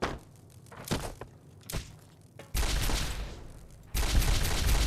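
Rifle fire at small critters in Fallout: New Vegas, a recharger weapon in Goodsprings, starts with a few sharp thunking shots and then breaks into loud, sustained bursts of gunfire.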